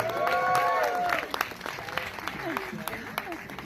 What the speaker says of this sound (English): Let's give a round of applause for this amazing panel